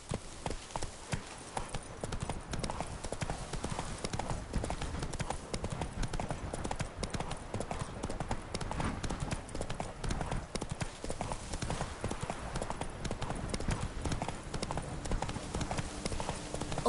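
Roach, the horse in The Witcher 3: Blood and Wine, gallops with a fast, steady clip-clop of hooves that runs continuously and fairly loud, while a voice speaks faintly now and then.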